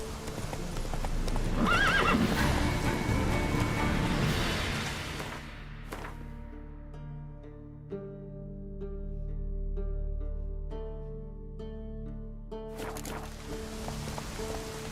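Roach, the horse in the video game Witcher 3, gallops with loud rhythmic hoofbeats and gives a neigh, then the hooves fade out to a quiet tonal background before resuming.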